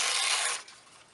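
A brief, close rasping rip like paper being torn, lasting about half a second before fading.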